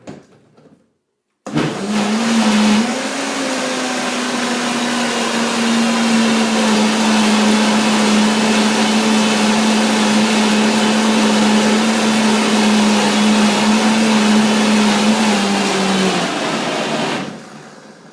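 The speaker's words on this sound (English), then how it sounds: "the blender gets to stop pretty soon after turning it off." A blender mixing a raw vegan blueberry pie filling switches on and whirs loudly and steadily for about fifteen seconds with a high motor whine, then cuts off abruptly.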